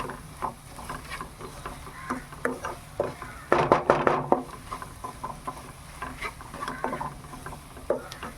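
Ingredients and meat masala stir-fried in a pan, with a steady soft patter and scraping of a spoon, sizzling that builds to a louder burst of frying midway, close and without talk.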